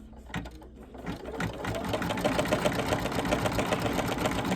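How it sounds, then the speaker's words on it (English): An embroidery machine stitches a zigzag pattern for an Easter bunny table runner, its needle tapping in a fast steady mechanical rhythm that grows louder and runs continuously, close by and without talk. "Make sure this arm of the embroidery machine doesn't hit the camera stand. So it does a zigzag around at first."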